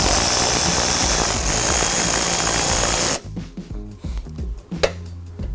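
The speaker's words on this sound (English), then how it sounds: "And now we're just going to reinstall this Torx 40." A power tool drives a Torx 40 fastener back in while mounting a reverse lighting kit bracket on a 2021+ Ford Raptor, a loud steady whir for about three seconds, then stopping into quieter clicks and handling noise.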